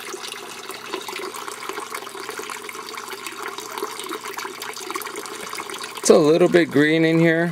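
Water runs steadily back into a 150-gallon Rubbermaid aquaponics fish tank holding goldfish in South Kona, a continuous close splashing rush that gives way to a voice near the end.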